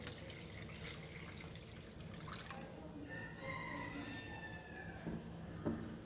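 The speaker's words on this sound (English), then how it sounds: "So now we will add the water, like around 1 cup." Water goes from a cup into a pan of fried fish curry masala for Goan fish curry made without coconut, a faint trickle and sizzle that holds steady, with a soft clink near the end.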